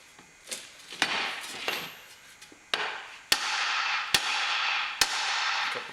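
Metal hammer blows on U-joint caps clamped in a vise, a series of sharp ringing strikes spaced unevenly, close and loud, with no talking.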